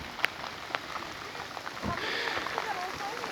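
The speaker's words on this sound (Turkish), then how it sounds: "Yağmura yakalandık. Bakalım çadırımız bizi ne kadar koruyabilecek." Steady patter of rain on a taut tent surface at a lakeside campsite, with a few sharper drops standing out, fairly close and continuous throughout.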